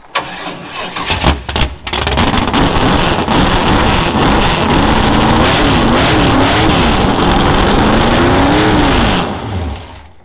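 After some clicks and clanks, a carbureted mid-90s Chevy engine cranks and fires up, then runs loud and steady with a wavering rev before easing off at the end.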